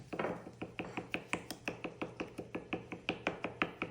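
Six eggs with salt and black pepper are beaten in a bowl, a fast run of sharp, evenly spaced clicks of utensil against the bowl, close and clear.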